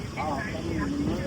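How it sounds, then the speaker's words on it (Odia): A rice-transplanting machine's engine drones steadily in a paddy field, a close mechanical hum running under a person talking. "ଏଇ ଦେଖନ୍ତୁ ଇଞ୍ଜିନ ରୁଆ ହଉଛି"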